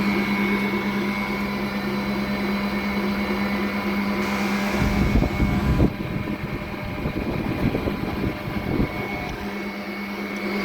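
A Jano 1200 W stand mixer runs at a steady motor whine, shifting louder and rougher partway through as it steps through its speeds, a close, continuous hum with no talking over it.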